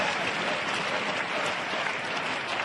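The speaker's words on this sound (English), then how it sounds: "now listen for the crowd to help build up for the jump" A large arena crowd at a karate world championship team kata final roars and applauds in a dense, sustained wash of noise, loud and continuous throughout.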